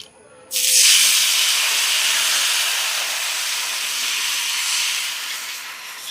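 A sudden loud hiss as dosa batter hits a hot greased pan, settling into a steady sizzle that slowly fades.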